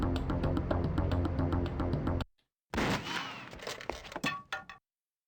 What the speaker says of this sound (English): Whoa, that sounds like gunfire.